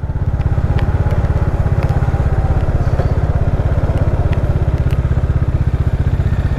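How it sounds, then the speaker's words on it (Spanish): A motorcycle engine runs at a steady, loud idle close by, a rapid even low throb with light mechanical clatter, no speech, heard while parking the bike on a street in Cali, Colombia. "vamos a cuadrar la moto"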